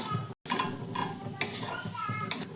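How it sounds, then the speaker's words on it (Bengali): Boiled potato, onion and spices stirred in a pan for kochuri filling: repeated scraping strokes of a utensil against the pan over a light sizzle, with a brief dropout near the start. "এবার ভালো করে মিশিয়ে নেব পেঁয়াজের সঙ্গে আলু আর বাকি মশলা"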